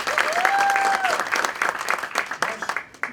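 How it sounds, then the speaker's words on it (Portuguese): Audience applause after a student's presentation at a public-speaking symposium, strong at first and then thinning into scattered claps, with a whistle or cheer early on. "Uma salva de palmas, por favor."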